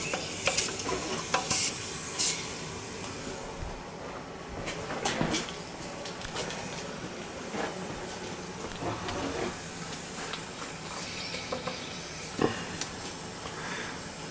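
Air hissing and sputtering out of a 40-gallon gas water heater as it fills, a continuous close hiss broken by irregular spurts and knocks of air and water.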